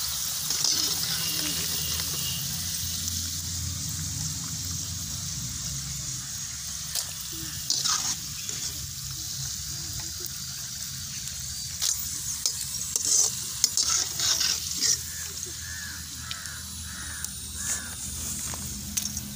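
Fried athandangai (turkey berry) chips are scooped from hot oil, with continuous sizzle and bubbling under scattered metallic scraping and ladle clinks, close and without talk.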